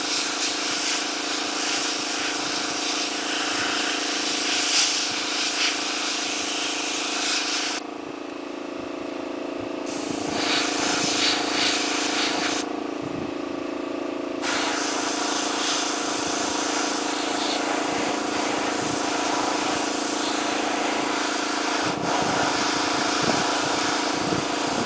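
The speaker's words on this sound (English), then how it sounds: "Don't concentrate the airbrush in one area." An airbrush sprays white paint onto a resin Han Solo bust, giving a steady, close hiss of compressed air that cuts out briefly twice and then resumes, with no voices.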